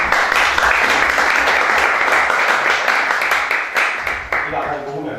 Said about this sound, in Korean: 뜨거운 박수로 환영 부탁드리겠습니다.